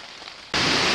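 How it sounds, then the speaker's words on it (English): Water dripping off leaves as mist collects in an autumn Maine forest: after a faint quiet hiss, a sudden dense, even patter like rainfall begins and holds steady. "What sounds like rain is actually just water dripping off the leaves as the mist"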